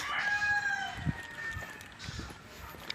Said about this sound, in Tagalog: puro manukan po yan sa gilid ng kalsada